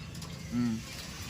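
A racing pigeon in a loft gives a single short, low coo, fairly close and quiet, over a soft background.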